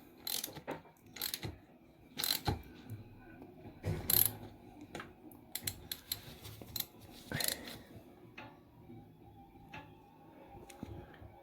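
A Honda CB400T engine is turned over by hand with a ratchet during a valve adjustment, giving clusters of sharp clicking ratchet strokes with short gaps, close and fairly quiet.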